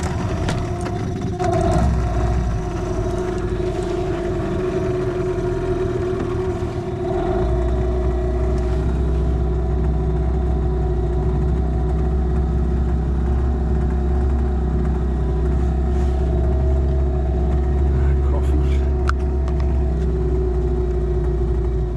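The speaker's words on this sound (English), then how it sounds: "A little bit just to get the motor warmed up, and then I might drop it back to idle" Small boat outboard motor running steadily at a low, even idle, a continuous near drone with slight rises and a deeper rumble joining partway through, no voices.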